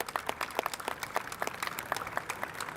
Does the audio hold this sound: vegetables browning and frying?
no